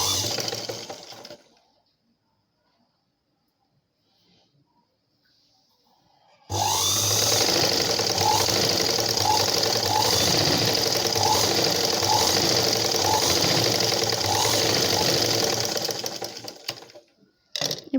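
A sewing machine stitching a blouse runs in one steady loud whirring burst after a quiet pause, its rapid needle rhythm continuous and close, then stopping abruptly.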